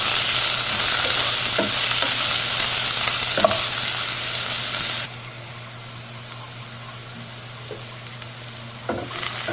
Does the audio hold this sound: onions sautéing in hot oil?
yes